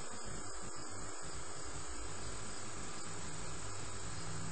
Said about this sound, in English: It's the compressor in the 1993 Lincoln.